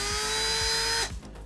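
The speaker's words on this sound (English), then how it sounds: "I'll use a countersink bit on my drill to put a little chamfer at the inlet of the Bowden tube" A power drill fitted with a countersink bit chamfers the inlet of a 3D printer's Bowden tube, a steady high-pitched electric whine with rhythmic ticking for about a second before spinning down abruptly, close and loud.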